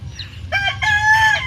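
A rooster crows once, close and loud, its call rising and holding over a low background hum.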